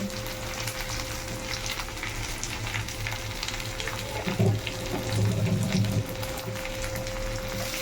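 Steady hiss and crackle of onion, tomato and chopped garlic frying lightly in hot oil, with a low hum underneath and a brief louder stir of sizzling near the end.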